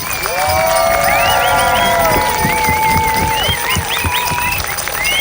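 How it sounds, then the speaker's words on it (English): An outdoor crowd at a Bristol march rally cheers and claps for the organisers, with loud whoops, whistles and shouted cheers riding over continuous clapping. "Please do give us a huge round of applause."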